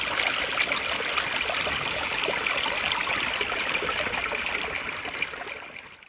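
Small creek trickling and babbling steadily in a mountain forest in Coronado National Forest, a soft continuous wash of running water, alone, fading slightly at the end.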